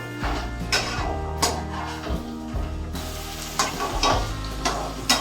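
Chicken curry with red chili fries in a pan, a constant sizzle under repeated scraping strokes of a spatula stirring the masala, close and fairly loud.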